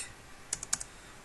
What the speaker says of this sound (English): type in whatever number you like